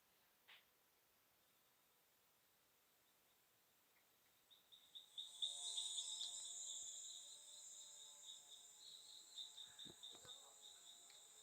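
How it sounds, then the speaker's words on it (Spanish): Small frogs call in a Panamanian cloud forest, a faint chorus of high, steady chirps that rises midway, with soft broadband rumble like a distant chainsaw underneath and a few brief clicks. "Ahí pueden escuchar las ranitas cantando."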